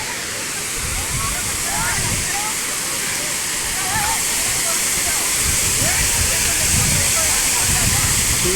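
Chikhale Falls near Belagavi pours in a constant, close roar of falling water, with faint voices now and then beneath the rushing.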